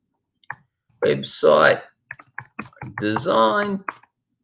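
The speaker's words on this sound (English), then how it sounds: "If I type in website design," A few sharp, isolated key clicks from a computer keyboard come as a search term is entered, sounding close and brief between stretches of someone talking.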